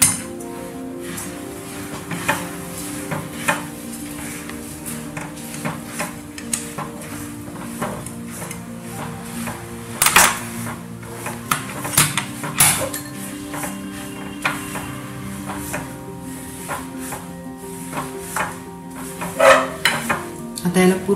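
Sesame seeds stirred into jaggery syrup in a pan over low gas for sesame ladoos: a spoon clinks and scrapes against the pan in an irregular rhythm, with a soft bubbling sizzle underneath.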